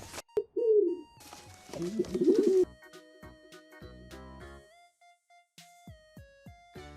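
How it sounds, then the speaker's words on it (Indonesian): A pigeon gives low, throaty coos, a short one and then a longer rolling phrase, close and clear, followed by a light plucked musical melody. "pigeon"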